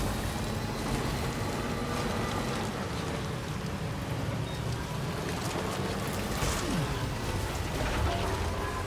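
Steady rain pours in the game Death Stranding 2, a continuous dense hiss of falling drops with no pauses and no voices.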